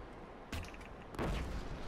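Two sharp sniper shots from Killzone: Shadow Fall multiplayer on The Hangar map, each a booming crack with a short tail, fairly close and with no talk.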